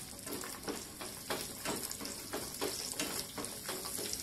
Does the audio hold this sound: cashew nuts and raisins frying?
yes